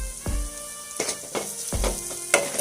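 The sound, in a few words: onions, green chillies and curry leaves sautéing with turmeric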